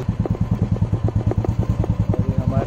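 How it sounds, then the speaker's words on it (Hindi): A motorcycle engine idles outdoors, close and loud, its steady rapid thumping pulses carrying on without a break. "इसके लिए मैं बाइक बाहर आके चालू किया"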